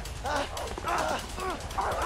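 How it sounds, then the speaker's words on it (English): Dogs from the video game A Way Out bark and yelp in a loud, busy chase. The bursts repeat over a constant rumble of game noise, and no one speaks. "I hate dogs!"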